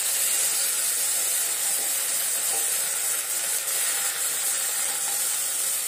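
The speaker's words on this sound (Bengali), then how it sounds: "এই তেলের মধ্যেই আমি প্রথমে দিয়ে নিলাম আদা বাটাটা আর সাথে সিদ্ধ করা আলুগুলো দিয়ে হালকা করে ভেজে নেব।" Ginger paste and boiled potatoes fry in hot oil, giving a steady, bright sizzling hiss that stays even and close throughout.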